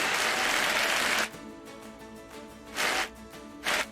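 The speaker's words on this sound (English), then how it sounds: "all of our award winners deserve one more big round of applause" An awards-ceremony crowd claps loudly for about a second before it drops away, followed by two short swells of scattered clapping.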